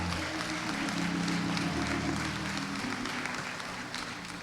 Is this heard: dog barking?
no